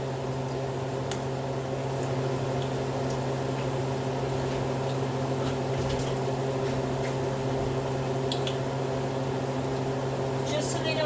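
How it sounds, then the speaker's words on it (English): A kitchen exhaust fan runs with a steady, droning hum during tortilla-chip frying, holding constant throughout with faint clinks above it. "So I'm going to turn the fan on now."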